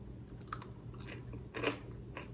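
Crunching bites into crunchy dry-canned potatoes, several close crisp chews in short bursts over a quiet background.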